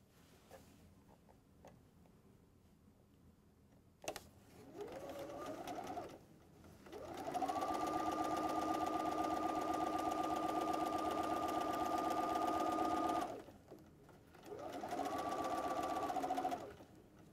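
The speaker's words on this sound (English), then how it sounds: "Now we stitch these together with a 1/4 inch seam." A sewing machine stitches a 1/4 inch seam for a quilt star block, its steady mechanical whir running in bursts: a short start, then a long even stretch, a pause, and another run, close and alone without talk.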